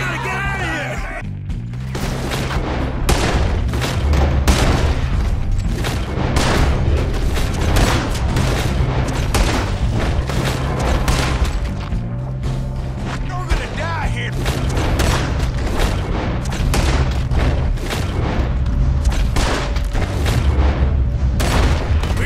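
Gunfire in a Red Dead Redemption 2 shootout during a night mission: dense, loud, rapid volleys of shots and booming impacts that continue without a break, with shouting voices mixed in.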